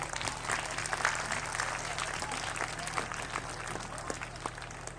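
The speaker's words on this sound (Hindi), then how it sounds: "एक बार इस किरण स्कूल के नाम से जोरदार तालियां बजाएं।" Loud, steady applause from an audience at a school function in Haryana, dense clapping sustained throughout with a constant hum underneath.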